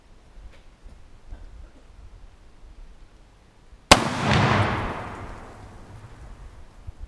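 A single sharp rifle shot from an 8mm Mauser or Mosin Nagant M44 carbine fired outdoors, a sudden loud crack followed by a long rumbling echo that fades over a few seconds, with quiet ambient noise before it.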